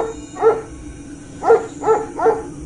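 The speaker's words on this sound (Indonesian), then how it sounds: "Kali ini karena lolongan anjing." A dog howls at night in short, mournful cries, four separate wavering calls at moderate distance over a low background hum.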